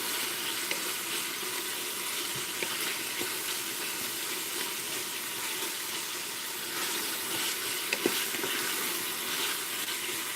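Bacon and vegetables sautéing together in a pan as the bacon fat renders, for Hawaiian pork: a steady, close hiss of sizzling with faint pops and crackles throughout.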